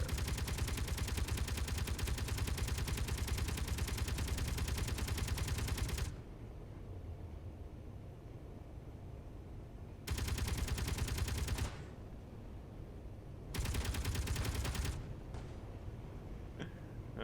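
Many guns fire in the video game Space Engineers, with long dense bursts of rapid gunfire that stop and start again in three blocks, loud and continuous, separated by quieter rumbling gaps.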